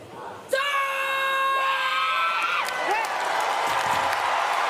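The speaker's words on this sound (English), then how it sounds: "A huge roar from both athlete and crowd, and it's a good lift as well." An athlete's sharp, loud shout rings out, then a large arena crowd erupts in a sustained roar and cheering after a successful 140 kg lift at a Paralympic women's -61kg powerlifting final in Paris 2024.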